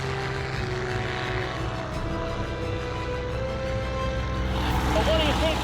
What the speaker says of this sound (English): This is my first go in a Spitfire, yeah. 2-seater Spitfire, yeah.